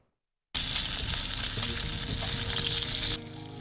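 Fish fries in hot oil with a steady, close sizzle that starts abruptly and hisses for about three seconds before dropping slightly in level.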